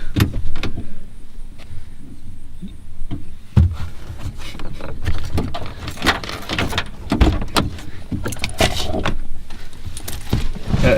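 Car door clunks and rattles with shuffling and handling noises, a few sharper thuds scattered through, close by, no one speaking.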